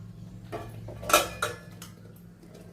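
A lid set down on a cooking pan of curry leaf thokku, giving a brief metallic clink and clatter with a few lighter taps after, close and alone against a low hum.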